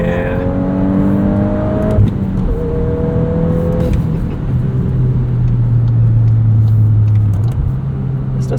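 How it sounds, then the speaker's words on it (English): A manual 2023 Volkswagen Golf R 20th Anniversary Edition exhaust revs through the gears with rising and falling engine tones, heard close from inside the cabin as a steady loud drone with shifts in pitch. "This does have kind of a spicy exhaust to it."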